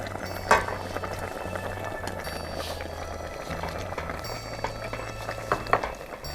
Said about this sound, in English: It's boiled for 5 minutes.